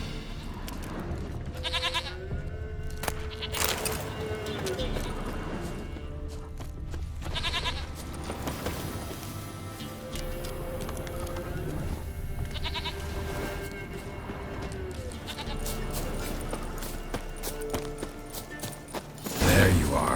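Goat bleating in The Witcher 3 video game, several wavering bleats spaced across the clip over game ambience and occasional hoof clops.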